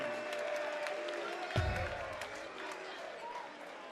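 Darts match crowd at the 2013 World Championship applauding and cheering, a steady wash of clapping throughout with a low thump and swell midway, under ambient arena noise.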